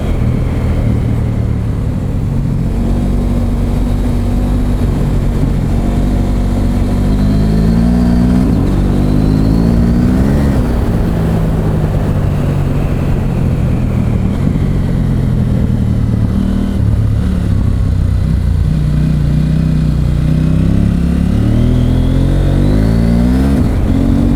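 A KTM 790 Adventure R motorcycle engine in rally throttle mode revs up and down over and over, loud and close, its pitch rising and falling steadily through the whole stretch.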